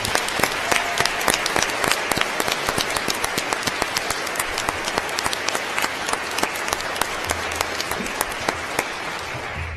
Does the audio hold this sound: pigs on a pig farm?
no